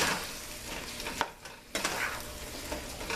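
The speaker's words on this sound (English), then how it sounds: "Now we're going to go ahead and just mix this up and scramble it." Eggs being stirred and scrambled in a hot frying pan with a splash of juice, a close crackling sizzle broken by spatula scrapes and a brief dip in the frying noise.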